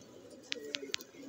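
Green-necked pigeon cooing close by, several soft low coos with three short sharp chirp-like notes standing out over faint background murmur.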